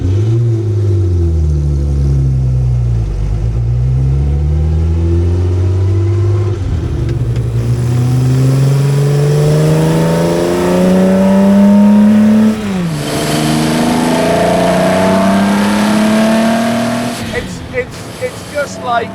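A 1950s factory works Jaguar D-Type race car engine revs loud and close, its pitch sweeping up and down through several throttle blips and gear changes, with people talking faintly underneath.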